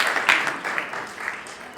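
Brief applause from an audience at a theatre festival event for two children, a short burst of scattered claps that quickly thins out.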